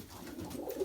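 Pigeons in a loft housing dozens of birds give soft, low cooing that runs continuously at moderate volume, with a slightly louder coo near the end.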